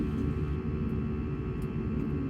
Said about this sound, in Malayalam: മേഘങ്ങളെ കീറിമുറിച്ചുകൊണ്ട് ഉയരങ്ങളിലേക്ക് പറന്നുയർന്നു എയർ ഇന്ത്യ ഫ്ലൈറ്റ്